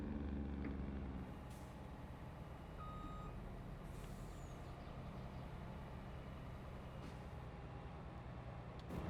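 A modded truck engine rumbles in a trucking video game, a steady low drone with a brief high beep and occasional air hisses, constant and close with no talk.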